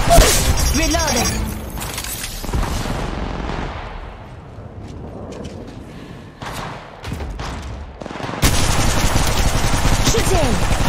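Gunfire in Apex Legends Mobile, bursts of rapid automatic shots and heavier blasts, loud and close, with quieter stretches between volleys and voices talking over the action.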